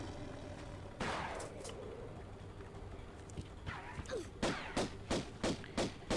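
Shotgun fire sounds in the 1996 video game Tomb Raider 1, set in a colosseum level, as a steady series of six sharp, evenly spaced blasts toward the end, following a few scattered thuds.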